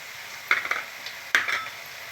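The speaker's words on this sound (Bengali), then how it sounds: "একটু নেড়ে নিচ্ছি।" Spices being stirred into banana stem in a frying pan: two brief scraping, clattering strokes of a utensil against the pan with a light sizzle, alone and close.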